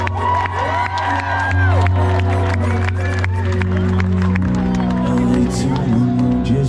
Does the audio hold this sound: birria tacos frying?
no